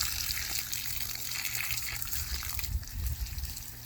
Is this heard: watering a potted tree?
yes